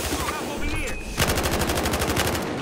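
Gunfire in the video game Battlefield Hardline: rapid automatic bursts rattle close and loud, with a dense continuous volley of shots filling the second half.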